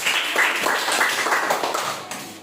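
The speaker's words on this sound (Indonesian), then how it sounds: "Berikan tepuk tangan untuk teman-teman." Students in a mathematics classroom clap together for their classmates, a dense patter of many hands over 2.4 seconds, steady and fairly loud throughout.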